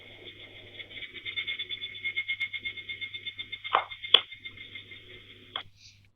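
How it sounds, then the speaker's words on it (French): Recorded Japanese cicadas give a sustained high metallic buzz that throbs in rapid pulses, with a few sharp clicks and a lower chirring texture beneath, fading out near the end. "Maintenant, je vais vous mettre des cigales japonaises."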